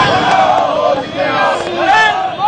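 Samajwadi Party workers protesting the fuel price hike in Varanasi and Agra, a crowd chanting slogans together in loud rhythmic voices, close and continuous.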